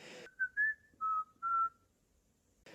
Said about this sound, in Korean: 휘파람을 부르는 이런 습관이 있어요